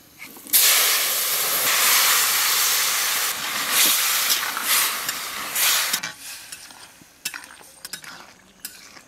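Five-spice, dried chilli, boiled potato and red amaranth hit hot oil, bursting into a loud, close, sustained hiss that rises sharply, holds for several seconds, then breaks into softer crackling and clatter.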